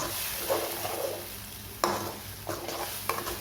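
Sautéed chutney masala being stirred in a pan: a spoon scrapes the pan in several distinct strokes over a soft, steady sizzle, with no talking.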